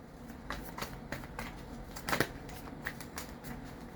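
Tarot cards being shuffled from a deck, a series of soft papery riffles and flicks in an uneven rhythm, close and fairly quiet with no talking.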